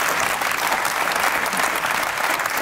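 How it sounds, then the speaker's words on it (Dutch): Studio audience applause at a Dutch pitch-event broadcast, a steady, full burst of clapping throughout the short clip with no talk over it. "Applaus."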